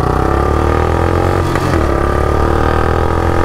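Royal Enfield Bullet 350 and Yamaha R15 V4 motorcycles accelerating hard side by side in a drag race, a loud, continuous engine roar that climbs in pitch, close and steady, with no talk over it.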